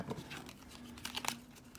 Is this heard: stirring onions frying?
no